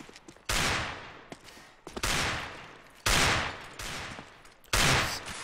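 Automatic rifle fire in a competitive Counter-Strike: Global Offensive match comes in four sharp, loud bursts of rapid shots spaced about a second apart, each trailing off into softer scattered fire.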